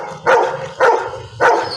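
A dog barks three times in answer to spoken arithmetic questions at a talk, each bark a loud, evenly spaced burst with no talk over it.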